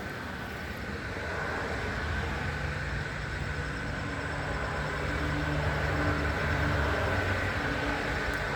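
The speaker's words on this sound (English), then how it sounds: "Excuse the noise, it's the traffic out the road." Road traffic passes outside, a continuous broad roar of engines and tires that swells gradually louder, with no voices.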